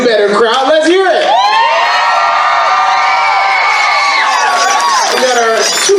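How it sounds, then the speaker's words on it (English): A convention crowd at a furry event's Floor Wars competition cheers, whoops and yells as a fighter steps into the arena, a loud, sustained wall of voices swelling and holding for several seconds. "you can do better, crowd. Let's hear it."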